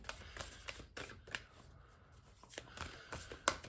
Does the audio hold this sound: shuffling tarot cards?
yes